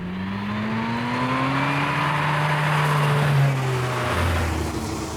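A Porsche 964 sports car engine revs steadily upward toward 6,000 rpm, a loud continuous rising drone heard from inside or close by, then dropping off near the end as it shifts.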